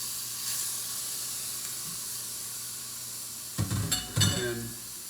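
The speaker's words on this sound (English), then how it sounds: "Then you can drop the shrimp in. Go ahead and start those to searing" Shrimp hit a hot pan at the end, giving two short bursts of sizzling over a steady low background hiss.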